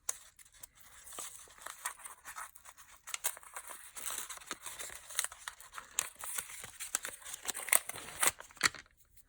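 A piece of washi tape being pulled and torn off a roll for a journal page, heard as a faint, close run of crinkly tearing and peeling crackles in irregular bursts, with no talk.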